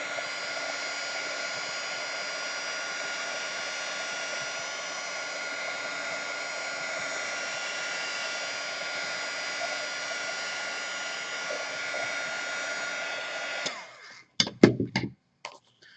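A hair dryer blows steadily for about fourteen seconds, drying watercolor paint in an art journal, a loud constant whirring hiss, then cuts off and is followed by a few brief knocks and handling sounds.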